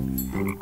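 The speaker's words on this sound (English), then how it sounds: "it's a frog." A frog gives a single short croak, a close, low, raspy call lasting under a second with no talking.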